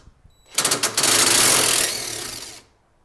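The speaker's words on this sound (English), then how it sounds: "remove this 13mm brake line bracket bolt" A power tool spins a 13mm brake line bracket bolt loose on a 2018-2020 Jeep Wrangler, a few short bursts followed by a sustained loud whirring run that tapers off and stops.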